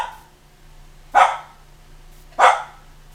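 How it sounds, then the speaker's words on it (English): A dog barks outside twice, about a second apart, each bark a short, sharp burst heard at a moderate distance over a quiet indoor room hum. "Y'all just get used to the dog because it's happening."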